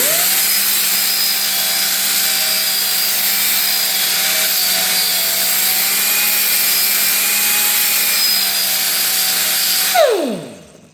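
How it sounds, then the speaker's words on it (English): An old air grinder with a flap disc sharpening a lawn mower blade, a loud sustained high whine with grinding hiss throughout, winding down sharply at the end. "This is just an old air tool, air grinder"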